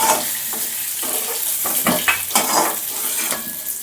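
Potatoes fry in a pan with a constant hissing sizzle, broken by repeated stirring scrapes in a loose rhythm, close and fairly loud with no talking.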